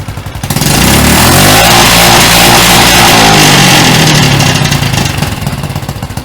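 Honda motorcycle engine held against a programmed ECU rev limiter at 5,000 rpm, a loud close buzzing drone that rises from idle, stays pinned at a steady pitch with rapid pulsing, then drops back toward idle near the end.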